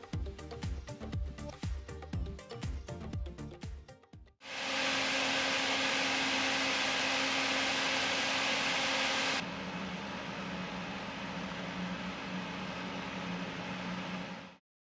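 An Arctic P12 Max 12 cm PC fan on a Segotep Frozen Tower CPU cooler runs at full speed, a loud steady broadband whoosh that starts abruptly after a brief burst of music, then settles slightly quieter but continuous.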